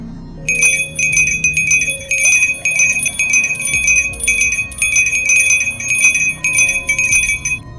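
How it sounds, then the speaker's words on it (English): Bells ring continuously in a rapid, clanging jumble of bright, high tones, loud and steady throughout with a faint low rumble underneath. "the bells exploded in the silence"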